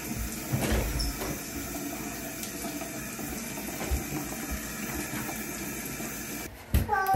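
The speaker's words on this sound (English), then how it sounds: "I just wanna wash my face real quick" A bathroom tap runs steadily while someone washes their face, a continuous close splash of water ending with a brief clunk.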